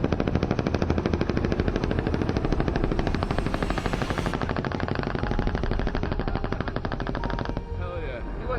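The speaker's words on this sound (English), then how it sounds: "The Huey then kicks back in with more machine gun fire, bullets bouncing off into the night." A Huey attack helicopter fires rapid, sustained machine gun bursts during a night combat engagement, with a dense rattling stream of shots over the loud rotor and engine drone.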